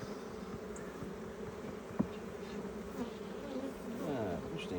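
Honey bees buzzing around a Langstroth hive, a steady low hum close by with individual bees passing near the microphone, one faint click midway.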